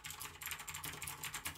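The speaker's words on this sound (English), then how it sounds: "The switches are Cherry MX Blue clones, so you still have that clicky and tactile feel." Rapid, steady clicking from a budget mechanical keyboard with clicky, tactile Cherry MX Blue clone switches and blue and orange backlighting, sharp keystrokes close up and alone without voices.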